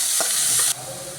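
Chopped onions sizzle and hiss in a hot pan with a couple of stirring scrapes, then the hiss drops off abruptly partway through.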